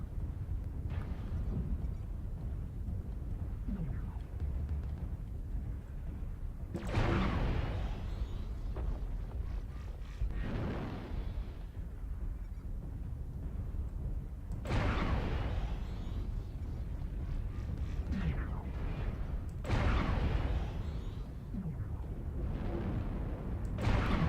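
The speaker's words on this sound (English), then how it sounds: "I'm just firing off, just getting used to how it fires." Mech weapons firing in MechWarrior Online from a PNT-5R Panther, several heavy booming volleys spaced several seconds apart over a steady mechanical engine rumble.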